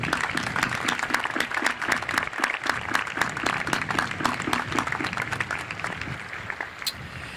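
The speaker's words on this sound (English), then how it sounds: "Would our city and county representatives please stand for a round of applause?" Crowd applause at a high school commencement for city and county representatives, many hands clapping in a sustained, moderately loud burst that gradually eases toward the end.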